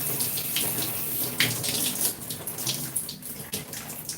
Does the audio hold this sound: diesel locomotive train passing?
no